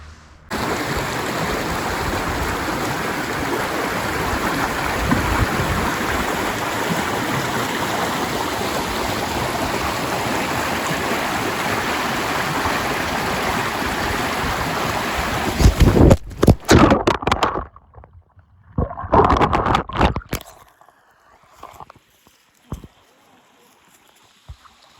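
Mountain creek water flows steadily as a broad, continuous rush close by, then breaks off into patchy, uneven bursts of noise and near-silence toward the end.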